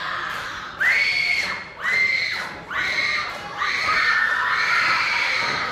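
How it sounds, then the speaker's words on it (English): A crowd at a wrestling event screams in several loud, high-pitched rising waves, one after another, ending in sustained shrieking. "It's hard to tell if it's screams of terror or mating call"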